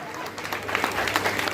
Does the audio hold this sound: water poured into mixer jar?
no